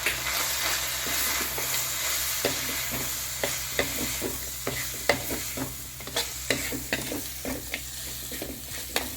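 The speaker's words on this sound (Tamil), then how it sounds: "கொஞ்ச நேரம் இந்த மசாலாவிலேயே மட்டன் நல்லா வதங்கி வரட்டும்" Mutton being fried and stirred in ground masala powder in a pan, with a steady sizzle and repeated scraping strokes of the spoon at an uneven rhythm, close and fairly loud, with no talking.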